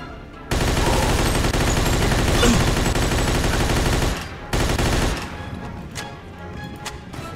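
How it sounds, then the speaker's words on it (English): Sustained automatic gunfire from Mafia II roars loud and close in a long continuous burst, pauses briefly, then resumes before trailing off into scattered distant shots. "Fucking suppressing fire"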